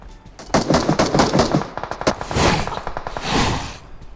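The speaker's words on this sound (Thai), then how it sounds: "มีคนยิงมา" Gunfire in the PUBG Mobile video game during a zombie mode, rapid bursts of automatic shots in quick succession, fairly close and loud, with no talk over them.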